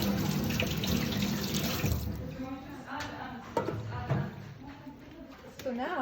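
Tap water runs steadily over a copper plate as it is rinsed, a close, rushing stream with splashing shifts while someone talks.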